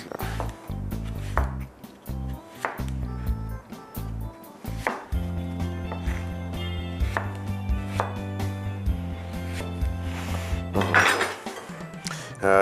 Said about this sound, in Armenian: Խնձորը շատ մանր չեն կտրատի, այսպես դիլիմները